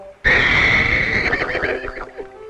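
A horse gives a single loud, close neigh that rises sharply, then wavers and trails off into a breathy, fluttering whinny over about two seconds.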